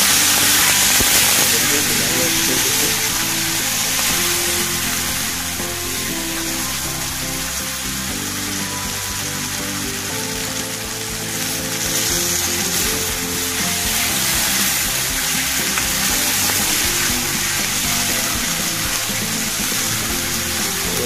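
Tomatoes frying in onion gravy in a pan while making egg dum, a continuous loud sizzling hiss lasting the whole time, with a person speaking over it.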